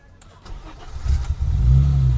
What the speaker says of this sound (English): now let's start the car up